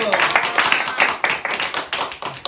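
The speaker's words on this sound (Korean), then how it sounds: "박수!" Audience members at a youth church service clap in quick, uneven bursts, fairly close and lively, with voices mixed in among the claps.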